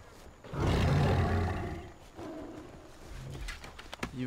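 A tiger in the video game Far Cry Primal lets out a loud, rumbling roar followed by a second, softer growl, alongside faint ambient bird calls.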